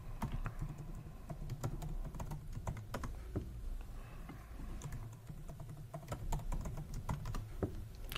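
Rapid irregular clicks of a computer keyboard as a username is typed, close and clear, in quick bursts with brief pauses between them.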